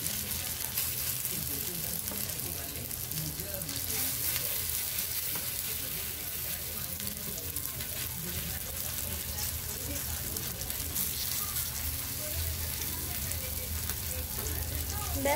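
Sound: burger filling frying in oil on low heat

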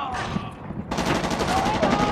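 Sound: enemy gunfire in the video game Shellshock 2: Blood Trails

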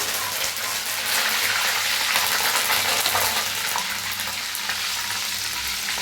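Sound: curry leaves frying in oil

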